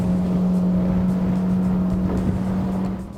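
A motor boat with a Suzuki 150 hp outboard engine runs at speed, a loud steady engine drone with a constant tone over rushing water and wind, easing slightly at the end.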